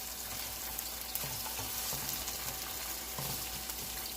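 Sliced mushrooms and vegetables stir-fry in a hot pan, a continuous close sizzle broken by a few soft scrapes and stirs, with no talking.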